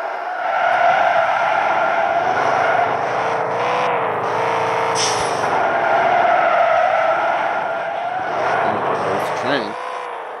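A video game car drives through a Wild West desert, its engine droning steadily and loudly with tires skidding and squealing throughout, and the revving rises and falls without a break.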